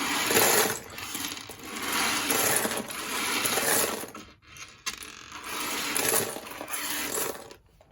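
Loose LEGO minifigure pieces are swept off a table, a dense continuous clatter of small plastic parts tumbling and rattling together, close and fairly loud, with a short pause midway before the clatter resumes.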